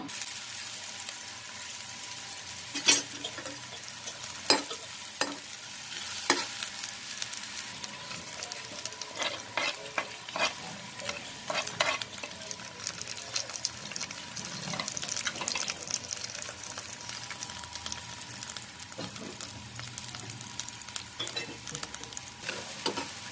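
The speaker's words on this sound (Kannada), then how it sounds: "ಈಗ ಫ್ರೈ ತೋರಿಸ್ತಾ ಇದ್ದೀನಿ. ಪೆಪ್ಪರ್ ಫ್ರೈ ತುಂಬಾ ಚೆನ್ನಾಗಾಗತ್ತೆ." Boiled kidney and liver being stir-fried for a pepper fry in a pan, a soft steady sizzle broken by occasional sharp clinks and scrapes of a spatula stirring, with some quiet speech at times.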